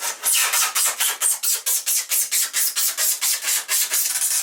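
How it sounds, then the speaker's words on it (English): Rapid rhythmic rasping strokes of a serrated bread knife sawing back and forth through foam, loud and close, about four strokes per second. "the only other option is to use a bread knife, which sounds like this."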